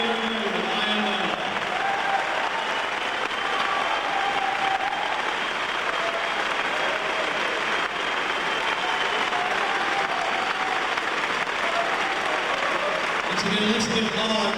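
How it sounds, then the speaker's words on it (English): Sustained audience applause and cheering for the finalists of the International Mr. Leather 2000 contest, a dense, steady clapping that fills the hall at even loudness for the whole stretch. "Let's give them all a big round of applause."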